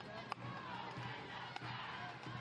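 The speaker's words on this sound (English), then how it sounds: "Crowd alive and well here at Camping World Stadium." A soccer crowd at Camping World Stadium in Orlando for a Pride vs. Washington Spirit match makes a steady distant roar of cheering and murmur, faint and continuous with a couple of brief sharp thuds.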